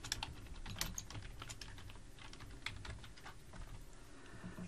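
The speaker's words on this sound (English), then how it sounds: "I'm going to type my text." Typing text on a computer keyboard in Microsoft Word: a steady run of quick, close, moderately quiet key clicks with irregular rhythm, heard alone with no talking.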